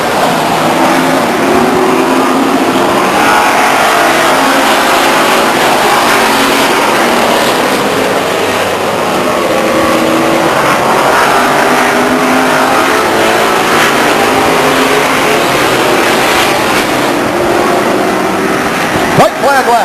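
Race cars circling Stockton 99 Speedway, a loud, continuous engine roar rising and falling as they pass, under steady announcer commentary.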